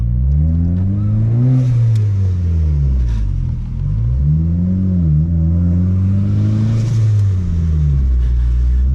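Turbocharged Honda Civic accelerating hard, pitch rising and falling through several gear pulls, a loud, deep rumble heard from inside the vehicle.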